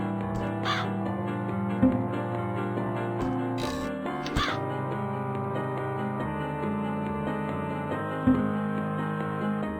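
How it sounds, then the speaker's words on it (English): A crow in the point-and-click horror game Gretel and Hansel caws a few times in short, sharp calls over a sustained dark musical drone, with no voices. "letting the crow kill Hansel"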